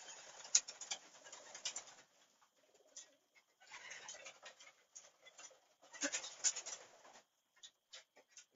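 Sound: pigeons cooing in pigeon loft at dinner time

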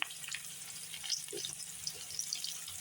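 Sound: potatoes being stirred and fried in a pan

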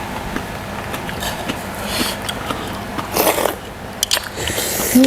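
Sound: crunchy biting into Luang Prabang papaya salad

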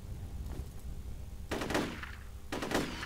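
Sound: gunfire at a valve in a video game

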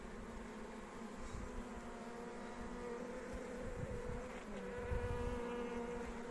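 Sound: honeybees buzzing on frame

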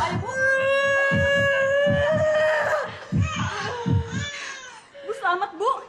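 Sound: newborn baby crying

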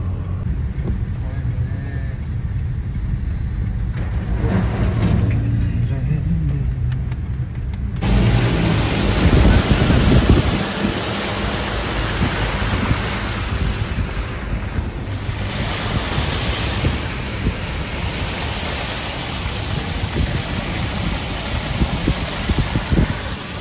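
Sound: heavy rain on car while driving

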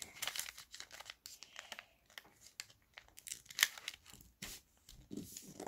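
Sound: paper being folded into an origami crane

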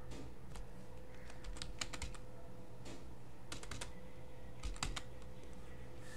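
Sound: typing a command on a computer keyboard

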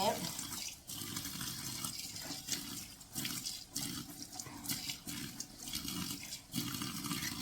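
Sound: running water while washing fish

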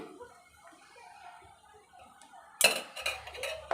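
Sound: mixing egg fried rice in a pan

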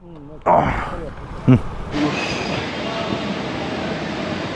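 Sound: metro train

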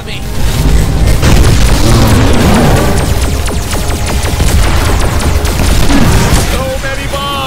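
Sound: bombs exploding in the video game Voltron VR Chronicles

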